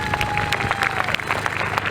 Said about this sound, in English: can I just hear you clap your hands for a second?